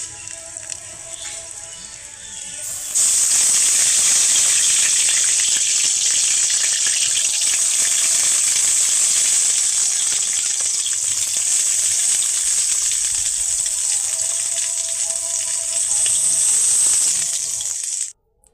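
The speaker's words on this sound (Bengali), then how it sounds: "এখন সয়াবিনগুলো ভেজে নেব।" Boneless meat chunks frying in oil in a kadai give a loud, steady sizzle and hiss that starts abruptly after a quiet moment and carries on unbroken until it cuts off near the end.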